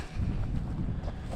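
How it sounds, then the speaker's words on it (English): Strong outdoor wind buffets the microphone in a deep, continuous rumble with gusty swells over a brief moment. "Wind is kind of nasty"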